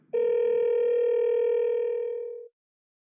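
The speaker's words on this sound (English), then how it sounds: "tapping on a phone number calls that number" An iPhone places a call to a phone number, producing a single loud, steady electronic tone that holds for over two seconds before cutting off into silence.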